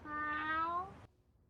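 A person imitates a cat's meow with a single drawn-out, wavering call that trails off abruptly, fairly faint and alone.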